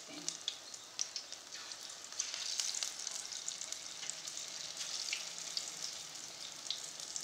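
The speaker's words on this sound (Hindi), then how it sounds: "इसकी मीडियम फ्लेम पे ही हमें पकौड़े तलने हैं" Pakoras fry in mustard oil over a medium flame, giving a steady bright bubbling sizzle with scattered pops throughout.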